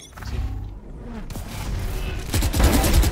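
Gunfire in the Valorant shooter game, with a dense, loud rattle of shots and mechanical clatter running through the whole moment.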